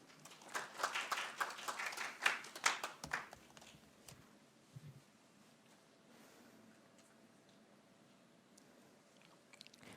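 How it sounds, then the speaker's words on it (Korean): A seated audience at a Korean public-policy forum gives brief, scattered applause to welcome the next presenter. The clapping is fairly close and lasts about three seconds, then falls into quiet room noise with a few faint stray sounds. "박수로 맞아 주십시오."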